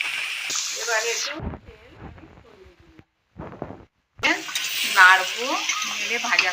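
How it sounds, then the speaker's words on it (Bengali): Radish and radish greens fry in a pan over low heat with a pinch of batasa sugar. A loud crackling sizzle and stirring scrapes drop away briefly while someone talks, then the frying returns strongly. "নাড়বো, নেড়ে ভাজা ভাজা করবো।"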